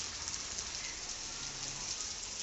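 Steady, dense rainfall hisses continuously, a heavy downpour in Nellore district drumming evenly on surfaces with no voices.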